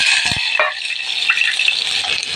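Five-spice seeds sizzle and crackle in hot oil, a loud, close, continuous frying hiss with a couple of brief scraping stirs near the start.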